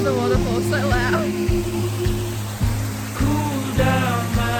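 Loud rushing waterfall roars steadily beside a creek in Australia, a dense continuous wash of water noise nearly drowning out a person talking close by.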